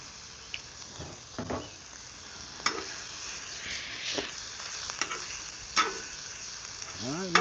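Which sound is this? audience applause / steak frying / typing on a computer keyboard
steak frying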